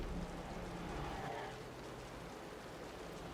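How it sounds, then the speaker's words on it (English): Heavy rain in the Wuthering Waves video game, a steady broadband hiss of falling water that holds at an even level throughout, with no voices. "The rain's getting heavier."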